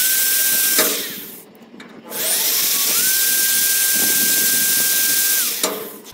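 A power drill boring into metal whines at a steady high pitch, pauses briefly for a few seconds, then spins up again and runs steadily, close and loud.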